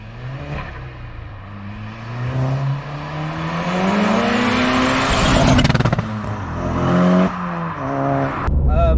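A stage 2 remapped 2008 Seat Leon Cupra K1 drives on a road, its engine note climbing steadily through the revs, then surging louder with a harsh rasp before easing off. No one talks.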